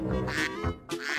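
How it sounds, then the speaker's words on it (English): A cartoon duck gives a short pair of nasal quacks, close and clear, lasting barely a second. "Duck."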